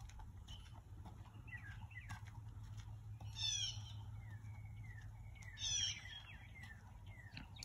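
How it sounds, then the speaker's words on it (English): Birds chirp and trill faintly in quiet countryside, with a couple of brighter warbling phrases standing out over a low steady hum in the background. "Don't hear anything up here except birds all day long."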